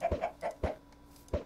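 Minecraft chickens clucking in short bursts, about five clucks spread unevenly, close and clear with nothing else around them.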